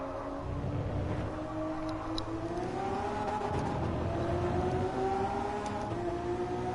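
A Lamborghini Veneno engine in Gran Turismo Sport drones loud and continuous, its pitch rising and falling as the car accelerates and shifts, with no talk.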